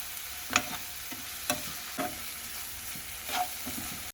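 Stirring turmeric into a curry in a pan, with faint sizzling and several scraping spoon strokes spaced about a second apart, quiet and close with no talk.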